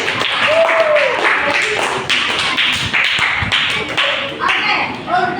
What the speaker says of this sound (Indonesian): Oke, untuk tepuk tangan.